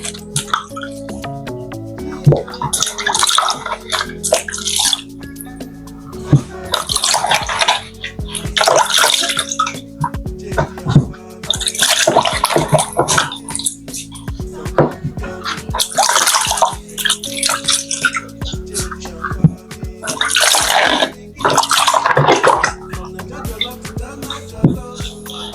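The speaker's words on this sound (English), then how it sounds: "I'll start off by washing my plantain" Running water splashes in bursts as plantains are washed by hand, with squishy handling, drips and gaps between louder rushes, close and fairly loud.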